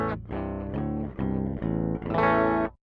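Baritone guitar in drop A tuning played through a NUX Metal Core Deluxe MKII distortion pedal straight into a PA with no reverb, loud dry high-gain chugged chords in several bursts, the last one ringing before cutting off.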